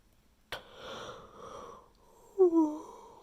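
A person yawns once, a soft drawn-out breath followed by a louder voiced groan near the end, heard close and alone with no speech.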